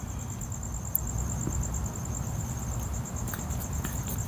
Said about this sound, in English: I put the other tiny microphone by the insects so you guys can hear them